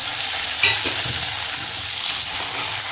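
Tomatoes and green chillies frying with garlic and browned onions in a hot pan, giving a steady close sizzle with a few stirring scrapes and no voices.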